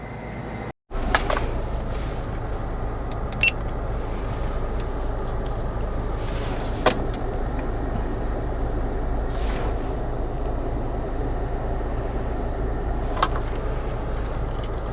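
Steady low road and engine rumble inside a 2021 Kia Sorento SX Prestige X Line on the move, with a brief dropout near the start and a few faint clicks, no voices.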